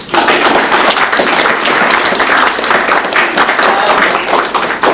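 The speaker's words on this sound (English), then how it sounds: "Round of applause." A crowd applauds at the closing ceremony of the Armadacon 12 convention, a dense, loud wash of many hands clapping steadily for several seconds, with a few voices faintly mixed in.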